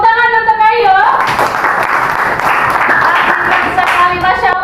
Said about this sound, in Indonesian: tepuk tangan untuk Ayo